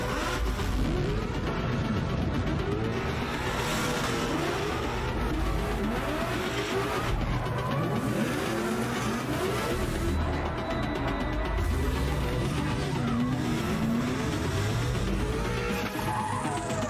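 Twin-turbo drift cars at a Formula Drift qualifying round scream and rev continuously, engine pitch rising and falling over tire squeal, loud and sustained throughout.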